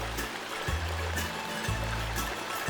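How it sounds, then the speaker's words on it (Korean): Water flowing through a traditional Omani falaj irrigation channel, a steady rushing stream with a low rumble, close and continuous. "잘 만들어진 수로에 제법 많은 양의 물이 흐르고 있다"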